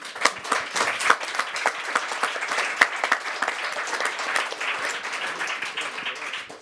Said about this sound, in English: offer them a huge round of applause